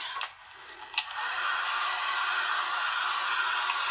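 A hair dryer blows steadily to dry glued paper collage pieces, running close and loud after a couple of brief bumps and starts.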